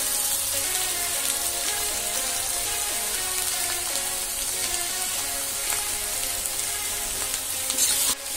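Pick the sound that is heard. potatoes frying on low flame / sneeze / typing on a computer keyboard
potatoes frying on low flame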